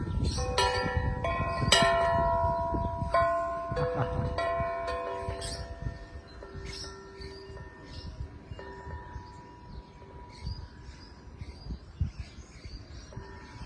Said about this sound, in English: we've got a bell here, as you can hear.